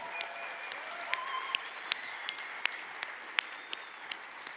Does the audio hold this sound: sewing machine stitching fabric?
no